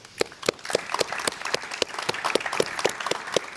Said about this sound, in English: yet another round of applause for the guests I was talking to